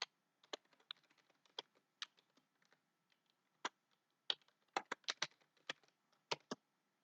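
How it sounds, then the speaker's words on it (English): A computer keyboard is typed on in irregular bursts of sharp key clicks, some single taps and some quick runs, close and fairly quiet with pauses between. "just type some complex password"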